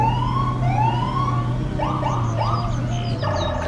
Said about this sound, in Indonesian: kakak menemukan kendaraan dengan sirine berwarna merah dan biru